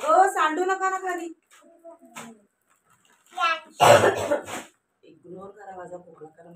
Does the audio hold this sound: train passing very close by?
no